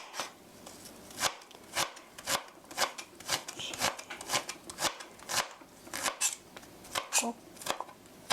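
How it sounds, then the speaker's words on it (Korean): A knife mincing ingredients on a cutting board, a steady series of crisp, close chopping taps, one to two per second, over a quiet background. "이렇게 다져 주시고요. 다지다가 이렇게 넣고 또 다져 주시고"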